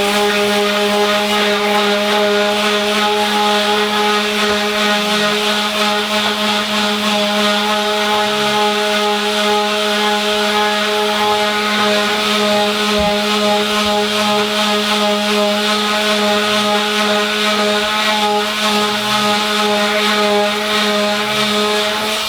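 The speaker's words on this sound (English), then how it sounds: "Obviously the easiest and quickest way is just with a detail sander." A detail sander with rough grit working a wood edge gives a loud, constant buzzing whine and gritty scrubbing, unbroken for over twenty seconds.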